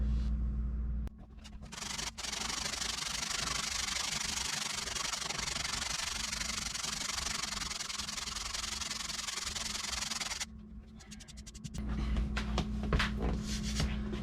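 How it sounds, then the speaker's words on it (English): Steady abrasive rubbing of sandpaper along the edge of a teak panel being fitted into a sailboat interior, continuous from about one to ten seconds, then pausing before lighter scraping resumes near the end; close and fairly loud, no talking. "we want to make sure we're sanding it nice and flat and flush"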